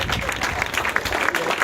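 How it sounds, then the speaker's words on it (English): A crowd at a tennis club court opening claps for Marcus Willis, a steady wash of applause from many hands with some voices mixed in. "Take a round of applause"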